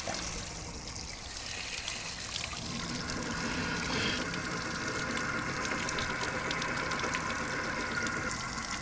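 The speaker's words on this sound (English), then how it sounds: "Look how fast that sucker goes when I take the load off." A rain-gutter hydroelectric generator spins fast through its gears once the load comes off, a continuous whirring mechanical hum mixed with running, trickling water, fairly faint and steady with no speech.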